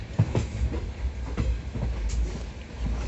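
Trains at Howrah railway station rumble steadily with a rhythmic clickety-clack of wheels over rail joints. The sound is loud, close and continuous, with no voices.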